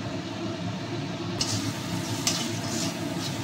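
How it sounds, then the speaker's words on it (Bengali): Spice paste with ground tomato frying in a pan while being stirred for a Bihari-style chicken dish, a steady close sizzle with a few sharper crackles, no talk. "মশলাটা আর একটু কষবো"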